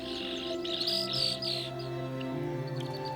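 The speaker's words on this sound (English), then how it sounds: "Both yellow-headed and red-winged blackbirds are present here." Yellow-headed and red-winged blackbirds call outdoors in a wetland, with buzzy trills and sharp chirps repeating over a steady, busy background of other bird song.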